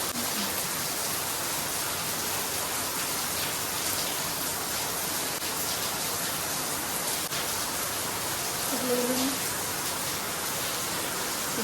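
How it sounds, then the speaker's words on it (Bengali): Rain falls outside as an even, continuous hiss that holds steady from start to finish, with a faint voice briefly heard partway through. "বাইরে বৃষ্টি হচ্ছে"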